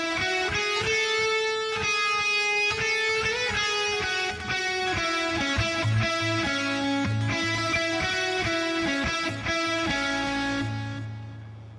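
Guitar plays a phrase from the Spy x Family ending song, a run of clear, sustained notes with chords and rhythmic strums continuing steadily for about twelve seconds, with no talking.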